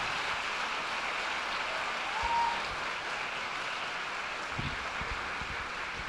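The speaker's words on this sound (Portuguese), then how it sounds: "Vamos aplaudir ao Senhor para confirmar esta palavra." A church congregation applauds in praise during a Portuguese-language sermon, a steady wash of clapping held at an even level throughout, fairly distant and diffuse, with a few low thumps near the end.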